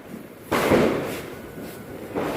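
A firecracker goes off outdoors during a festival, a loud broadband burst that swells and trails off over a second or more, followed by another rising rumble, all above constant background noise.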